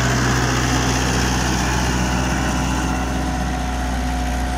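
A 45 HP tractor engine drones steadily under load driving a 7-foot rotavator, a constant heavy mechanical hum with churning grind, close and loud throughout.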